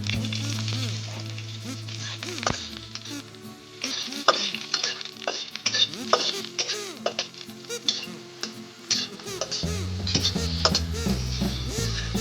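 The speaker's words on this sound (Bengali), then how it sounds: "আট 10টা শুকনো লঙ্কা এখন তেলে ভেজে নিব।" Dried red chillies, about eight to ten of them, frying in hot oil for a fish bharta, with a steady close sizzle, crackling bursts and occasional stirring clinks.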